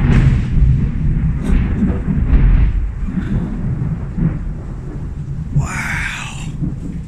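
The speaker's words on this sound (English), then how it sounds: "are you kidding me with this thunder? It's so distracting." Low, rolling thunder rumbles continuously in a storm, loud and booming, with a brief hissing burst partway through.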